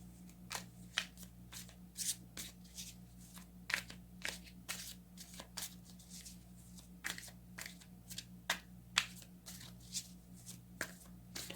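Tarot cards shuffled by hand in a quiet room, a series of soft, crisp riffling bursts at an irregular pace, close and gentle against a low steady hum.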